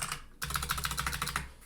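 Quick, close clatter of computer keyboard keys while someone codes a web form; a faint tap or two, a brief pause, then a dense run of evenly spaced keystrokes for about a second before it trails off.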